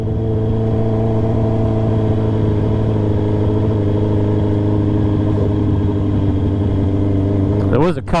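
A new motorcycle engine holds a loud, steady mid-pitched drone, then revs sharply upward near the end, up close, with a rider talking over it.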